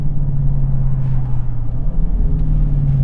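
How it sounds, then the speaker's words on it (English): A Dodge Charger Scat Pack muscle car's exhaust gives a loud, steady, deep rumble from close by, a low throbbing burble with no talking. "enjoying the symphony from the exhaust"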